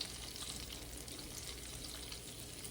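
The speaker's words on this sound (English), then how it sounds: "I like to fry just a few at a time. They're gonna expand a little bit while they fry." Cheese balls fried a few at a time in hot oil, a dense steady sizzle with fine crackling bubbles, close and continuous, no voices.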